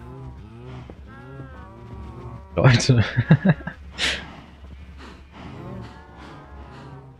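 In Minecraft, cows on a farm give a cluster of loud, close moos in the middle. Someone talks before and after them.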